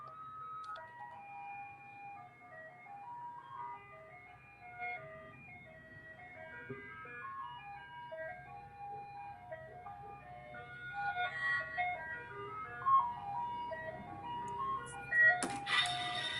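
An ice cream truck plays its tinkling jingle melody, steady and moderately distant, growing louder as it passes with some road noise and a brief clatter near the end.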